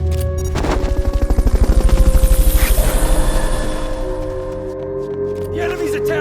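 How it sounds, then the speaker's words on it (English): The Fulton recovery helicopter in Metal Gear Solid Peace Walker whirs overhead, its rotor blades beating in a loud, fast rhythmic thump that swells and then gradually fades under a steady mechanical drone. "Fulton recovery helicopter is complete."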